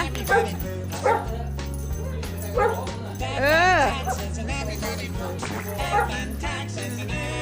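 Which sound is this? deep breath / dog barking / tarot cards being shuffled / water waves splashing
dog barking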